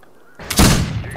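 Gunfire in the multiplayer western shooter Fistful of Frags, a single loud, sharp blast that booms in after a quiet moment and rings out briefly, with no talking.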